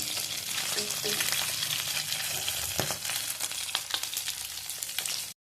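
Fish pieces frying in hot oil for chilli fish, a steady close sizzle with crackling pops and occasional stirring clinks, with no speech.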